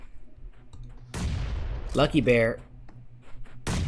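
Grenade blasts and gunfire in the PUBG Mobile video game during tournament scrims, with a burst of explosive bangs and rattling shots under excited commentary, followed by another loud blast at the end.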